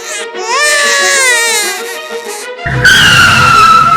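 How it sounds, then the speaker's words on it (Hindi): A baby cries from inside a garbage bin in a cartoon comedy, with loud, wavering wails for about two and a half seconds before a rougher, noisier burst takes over. "अरे ये किसके रोने की आवाज है बेटा?"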